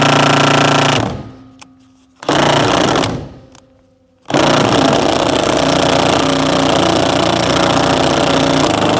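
A 1/2-inch impact gun with a T50 Torx bit hammers on a seat belt bolt in a 1992-1996 Ford F-150, loud rattling bursts close up, two short runs separated by pauses and then one long sustained burst.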